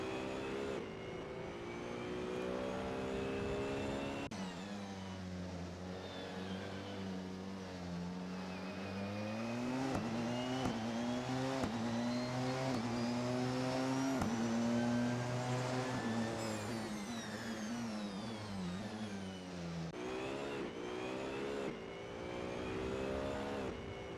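A race car engine at Spa Francorchamps in a racing video game roars continuously, its pitch climbing and dropping through gear changes and corners, loud and close with no talking.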